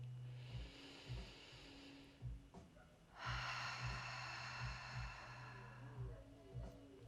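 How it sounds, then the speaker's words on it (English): Deep yoga breath drawn in through the nose and let out through the mouth, a soft airy inhale followed by a longer breathy exhale, quiet and close over faint low background music. "Inhaling in through the nose. Exhale out of the mouth."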